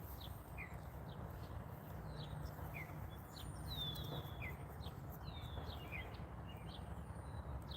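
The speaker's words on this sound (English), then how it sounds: "I'm going to just shut up whenever I hear that bird call." Wild bird calling outdoors near a pond with ducks in Michigan, thin repeated chirps and whistles at irregular intervals over a steady low background hum.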